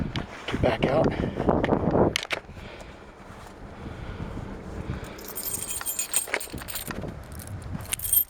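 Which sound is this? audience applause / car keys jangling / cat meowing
car keys jangling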